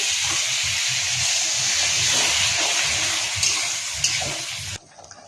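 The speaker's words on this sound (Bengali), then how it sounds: "কষানো হয়ে গেছে, এবার জল দিয়ে দেব" Water poured into hot sautéed curry masala throws up a loud, steady hiss of steam that holds for several seconds close by, then cuts off abruptly near the end.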